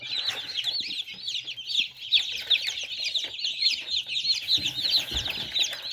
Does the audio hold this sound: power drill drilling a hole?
no